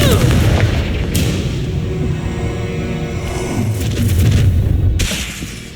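Spell-blast explosions from the Confringo curse in Hogwarts Legacy, heavy booming impacts with crackling debris, one sharp burst early and another near the end over a sustained roar of battle noise.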